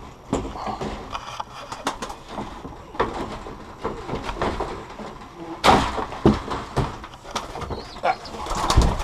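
Young pigeons cooing softly inside a loft aviary, scattered low calls and rustles over a steady indoor hum, with a louder burst of activity and a door-like knock around the middle.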